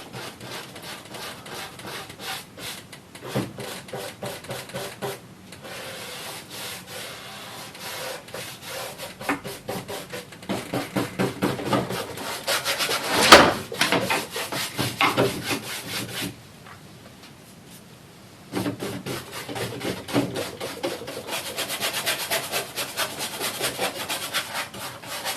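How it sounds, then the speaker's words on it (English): Continuous rough scratchy rubbing of a brush scrubbing oil paint onto canvas, with repeated strokes, a brief pause, then more scrubbing, close and moderately loud with no talk. "So I'm going to have to scrub in this paint on, really."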